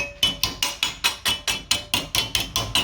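A hammer strikes a steel edge of an MK2 Escort wheel well repair panel, dimpling it over a socket: a rapid, even series of about thirteen sharp, ringing metallic blows, close and loud.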